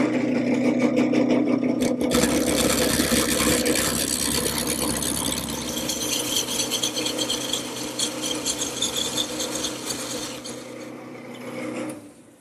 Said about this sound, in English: The first step is to use a gouge to make the blank round.